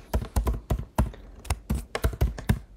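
Someone types on a computer keyboard in close, crisp bursts of key taps with brief pauses between clusters, no talking.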